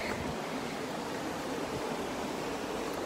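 Ocean waves wash steadily against the shore nearby, a dense, even hiss of surf filling the whole moment with no pause, alone and without voices.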